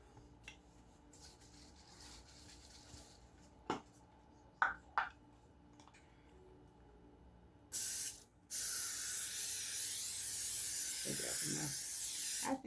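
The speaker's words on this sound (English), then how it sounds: "I'm putting butter spray on top" Butter spray hisses from a can onto a strawberry cobbler, a few faint clicks and taps first, then a short burst followed by a longer steady spray.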